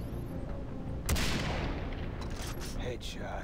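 Gunfire in Far Cry 3 Blood Dragon, a sudden loud burst of shots with booming reverberation that decays slowly, followed by a few softer bangs, near and dense.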